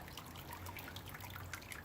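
Sparge water trickles onto the grain bed of an all-grain amber ale brew in a three-vessel system, a soft, steady close-up dribble with faint drips, with no talk over it.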